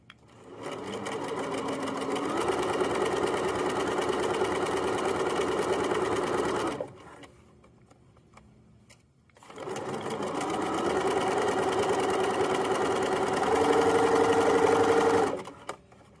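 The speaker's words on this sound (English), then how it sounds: "I'll hang out my 3/8 as I sew up the side seam" A sewing machine stitches the side seam of a Chromebook case with a 3/8 seam allowance, running in two long steady bursts separated by a pause of a few seconds, close and clear.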